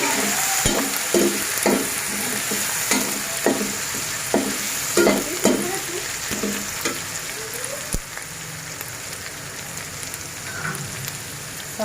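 Ground paste browns in hot oil for kofta pulao, a constant crackling sizzle with a rhythmic series of spoon stirring scrapes and taps, close by and without speech.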